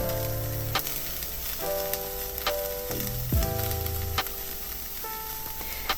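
Onion and garlic sizzle in butter in a pan, a steady close frying hiss with scattered pops and faint utensil clinks throughout.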